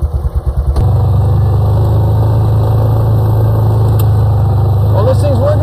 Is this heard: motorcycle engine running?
yes